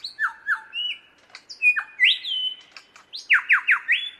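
A superb lyrebird mimics the fluid song of a shrike thrush, a series of clear, loud, descending whistled phrases and squawky notes delivered alone in quick succession.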